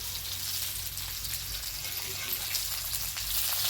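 Fish frying in a pan over medium heat for fish fry, a dense, steady close-up sizzle with a crackling, rain-like texture that holds even throughout.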